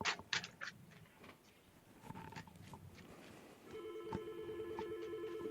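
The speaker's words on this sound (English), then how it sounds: "That is Anna on the phone, actually." A telephone rings in a quiet room, a steady electronic ringing tone starting partway through and continuing to the end, preceded by scattered handling clicks and taps.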